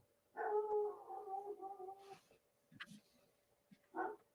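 Thor, a dog, barks angrily outside at something in the field, giving one long, strained howling bark and then a few shorter rough barks and yips, fairly close, with no talk.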